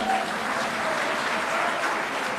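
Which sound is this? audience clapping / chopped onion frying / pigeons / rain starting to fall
audience clapping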